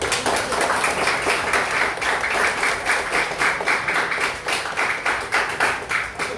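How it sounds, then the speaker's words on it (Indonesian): Lively applause from a group of children, many hands clapping at once in a dense, steady wash that continues throughout. "Tepuk tangan yang meriah."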